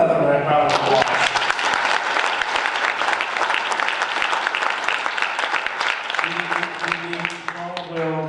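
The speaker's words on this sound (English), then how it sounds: "Give him another round of applause." A dinner audience at a political party's Lincoln Day event gives a loud, sustained round of applause for a former state representative, with a speaker's voice over the clapping at the beginning and end.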